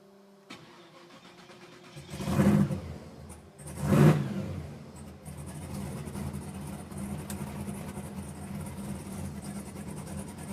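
A blown, injected 1966 Chevelle V8 cranks and fires, blips twice with two sharp revs, then settles into a loud, lumpy idle, close by, no talking.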